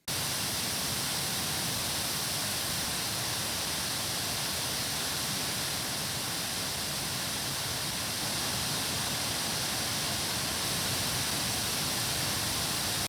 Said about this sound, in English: the pink noise